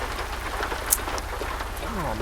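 Rain at night in the video game American Truck Simulator: a dense, steady downpour pattering continuously, with one sharp click partway through and a faint voice-like sound underneath near the end.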